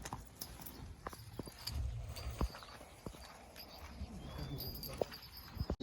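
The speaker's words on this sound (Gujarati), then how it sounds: "અહીંયા રે આ સત્તુ બાપુની સ્પેશિયલ ઘોડી છે" A mare on a farm walks with irregular, fairly quiet hoof clip-clops spaced out over several seconds, over a faint outdoor background.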